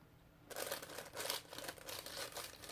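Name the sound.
parchment paper crinkling under art journal page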